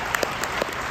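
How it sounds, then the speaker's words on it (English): A conference audience applauds on cue, a steady wash of many hands clapping at once with a few louder individual claps standing out. "I want you to give me a big clap when I say clap back"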